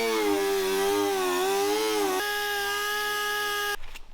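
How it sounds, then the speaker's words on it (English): A wire wheel on a pneumatic tool strips paint from a Jeep fender, making a loud, sustained high whine whose pitch wavers, drops to a steadier tone, then cuts off with a brief clatter at the end. "the best, quickest way is going to be with this wire wheel on our pneumatic tool"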